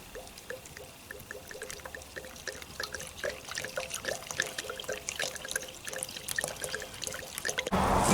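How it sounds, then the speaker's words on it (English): Water poured into a piece of bamboo holding crab boil powder gives a continuous trickling pour that builds gradually louder, close by and with no talk. "my intentions is to add some water to this thing"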